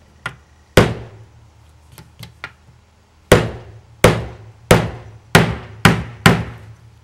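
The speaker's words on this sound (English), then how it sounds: "These are drywall nails, they're not meant for wood, so they will be bending." Drywall nails hammered into wood: a few light taps, then a run of six loud, sharp, evenly spaced blows close by, each ringing briefly.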